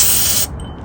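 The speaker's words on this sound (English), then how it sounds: "take your carb cleaner and just kind of spray it all down real good." Carb cleaner hisses from an aerosol can onto a small two-stroke carburetor in one loud, close burst about half a second long. The spray cuts off abruptly, leaving a faint low hum.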